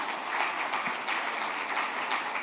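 Applause from an audience at a Future of Work and Productivity Summit in Jamaica, a steady, dense patter of many hands clapping at moderate loudness throughout, with no talk over it.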